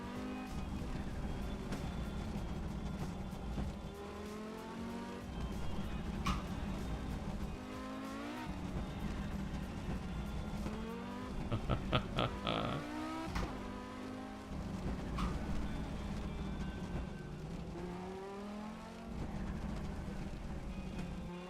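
Audi Quattro five-cylinder engine in a racing simulator, droning steadily at high revs with shifting pitch and gear changes, a short burst of tire squeal or rapid shifts midway, continuous and close throughout.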